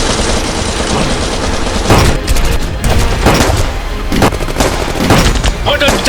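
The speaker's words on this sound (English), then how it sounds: "MMG fire खोलो।" A medium machine gun opens fire in a staged battle scene from the 1947 Indo-Pak war over Kashmir: loud, dense bursts of gunfire and booms crowd together in rapid, uneven volleys throughout.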